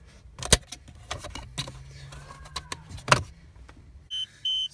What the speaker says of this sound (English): that's my tire pressure monitor system